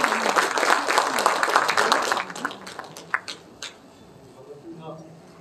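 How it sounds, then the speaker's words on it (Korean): An audience at a book launch event in a library claps in a dense burst of applause that stays strong for about two seconds, then thins into scattered claps and fades out. "큰 박수로 맞아주시기 바랍니다."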